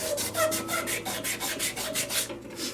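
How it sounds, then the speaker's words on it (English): Steady rhythmic rubbing of sandpaper against a spinning turned wood piece on a lathe, about a dozen back-and-forth strokes at an even pace, close and moderately quiet over a low motor hum. "now I'm just going to sand it up"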